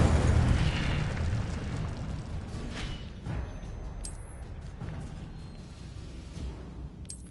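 A fiery Incendio spell blast from Hogwarts Legacy, a booming whooshing burst of flame that starts loud and fades into a rumbling roar over several seconds, with a few small crackling pops.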